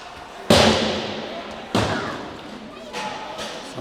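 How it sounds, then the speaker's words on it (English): Hockey sticks banged in frustration during a 16U youth ice hockey game, giving sharp, loud thuds: two strong hits about a second apart, then two softer knocks, with faint rink noise between them. "Somebody's frustrated and banging sticks."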